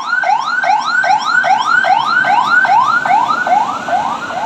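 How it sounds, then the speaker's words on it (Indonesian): An ambulance siren, approaching from the opposite direction to a bus on a road in Aceh, wails loud and close in a fast, repeating rising yelp, unbroken throughout. "Ambulan dari lawan arah kawan-kawan"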